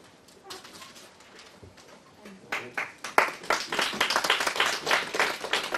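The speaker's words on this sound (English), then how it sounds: "Maybe hold your clapping until the very end, so we can keep going." An audience at a Goldsmiths panel on the future of socialism breaks into applause that begins thinly, then swells after a few seconds into dense, sustained clapping from many hands.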